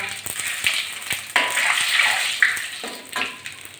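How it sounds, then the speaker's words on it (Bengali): Panch phoron spices and bay leaves go into hot oil, setting off a sudden crackling sizzle that rises in bursts, with a few light pan knocks. "প্রথমে তেলের ভিতরে একটু পাঁচ ফোড়ন ফোড়ন দিচ্ছি দিয়ে দিচ্ছি দুটো তেজপাতা"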